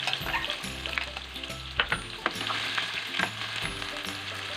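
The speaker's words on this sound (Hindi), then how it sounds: "प्याज को मैं सौते कर रही हूँ ताकि इसका कलर जो है लाइट गोल्डन सा हो जाए।" Two medium roughly chopped onions sautéing in oil with whole garam masala for an achari keema karela dish, a steady close sizzle with scattered stirring clicks and a low hum underneath.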